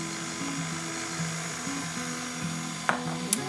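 An electric mixer runs on low through keto sugar cookie dough, a steady whirring motor drone that shifts pitch as it works, with two sharp clinks near the end.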